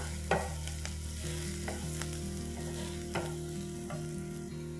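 Finely chopped green chilies stirred in a hot frying pan, a steady close sizzle with occasional scraping taps of the spoon, no voices.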